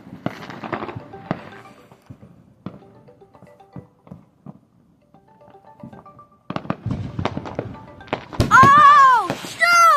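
Fourth of July fireworks going off outdoors, scattered sharp pops and bangs in irregular bursts, growing louder and denser near the end, with people talking and exclaiming excitedly throughout.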